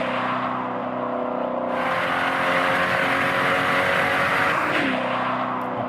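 A Dodge Charger EV plays a synthetic V8-style engine sound, a loud, steady droning rumble that swells as the car accelerates partway through and then holds a rising, revving tone.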